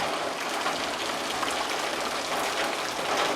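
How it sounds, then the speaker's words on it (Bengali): Heavy rain drums on a tin roof in a Bangladeshi village, a dense, even, loud hiss of drops that stays constant throughout with no voices. "মুসল ধরে বৃষ্টি হচ্ছে"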